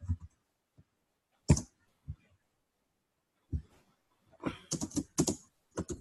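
Computer keyboard typing code in sparse bursts: isolated key clicks and thuds with pauses, then a quicker cluster of several keystrokes near the end, close and fairly quiet.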